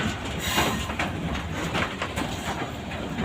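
A long, heavy train passes through Rajbari railway station with a loud, continuous rumble and rhythmic clickety-clack of wheels close by.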